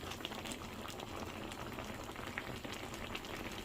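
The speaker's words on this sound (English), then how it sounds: "I'm leaving right now in high heat in order to dry the juices down and become caramel" Plum confiture boiling hard on high heat as the juices reduce toward caramel, a continuous fine bubbling and popping crackle, close and fairly quiet, with no one talking.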